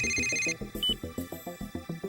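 A ringing phone in the Yakuza video game, with rapid repeated electronic ring pulses under soft background music, close and fairly loud, with no voices.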